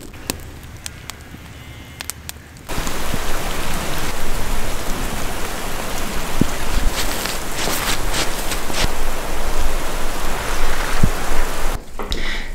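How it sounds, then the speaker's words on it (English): Rain falls steadily on a farm in January, a close, loud patter on surfaces that kicks in sharply after a short quiet start and holds constant until near the end. "then it started raining and it never stopped"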